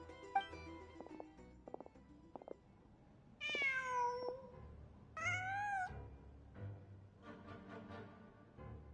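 Game cat meows several times in a row, clear, moderately loud yowls with pauses between, over a low ambient background with faint game sounds.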